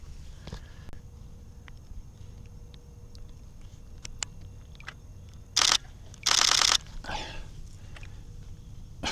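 A camera shutter fires in two quick bursts of rapid clicks, the second longer, while photographing a bird from a kayak on Tennessee's Emory River, with quiet outdoor ambience around it.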